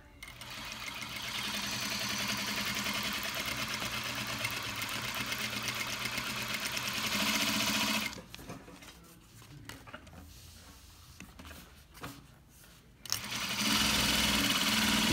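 Industrial sewing machine with a servo motor, compared with a Juki DL-8700: a steady, close mechanical whir and rapid stitching patter that stops for several seconds of quieter handling noise, then starts up again.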